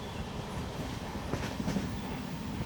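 From aboard the Matsyagandha Express, a new LHB-coach train heading towards Mulki, a steady muffled rushing rumble of wheels and carriage noise, constant and fairly faint.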